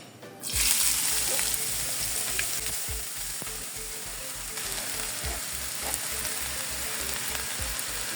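Chopped potatoes, onions and green chilies drop into a hot pan and break into a strong, steady sizzle with faint stirring clatter. A low rhythmic thump pulses underneath, and no one talks.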